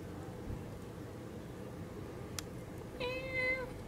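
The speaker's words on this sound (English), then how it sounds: "Kitty kitty, what are you doing?" A kitten or cat gives one short, clear meow near the end, close by, over a steady background hiss with no talking.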